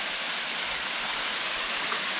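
Waterfall pouring over a granite rock slab beside pools on a mountain hiking trail, a loud, steady, close rushing wash of water with no other sounds.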